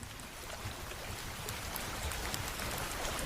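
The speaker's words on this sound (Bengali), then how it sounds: "নিচে কাদা, মাথার ওপর অঝোর বৃষ্টি" Heavy, relentless rain pours down at a deserted riverside ghat in a Bengali cartoon, a dense continuous hiss with splashing drops over muddy ground, heard alone without voices.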